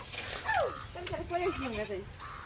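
A goat bleats in a wavering, descending call at close range, followed by several shorter bleats and animal cries mixed with a voice, all under a faint rural background.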